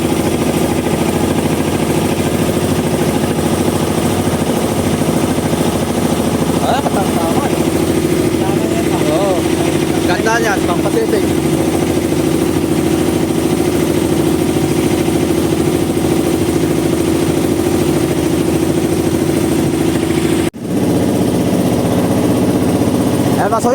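The engine of a medium-sized bangka fishing boat runs with a steady, loud, low drone and a constant idling throb, with people talking over it.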